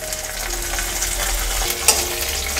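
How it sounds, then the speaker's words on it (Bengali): Onion, ginger and garlic frying in oil for a soybean dish, a steady close sizzle with soft stirring scrapes and one sharp clink near the end, no voices. "আরও খানিকটা সময় আমি একটু তেলের সঙ্গে নেড়ে চেড়ে ভেজে নিচ্ছি।"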